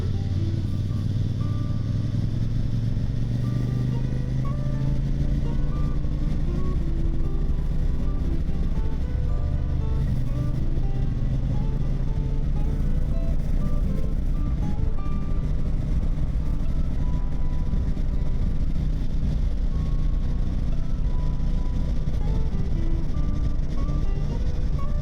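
A Royal Enfield Super Meteor 650 motorcycle with new Hagon shocks rumbles steadily along the road, its engine note rising and settling as it rides over bumps, loud and continuous with wind, no talk.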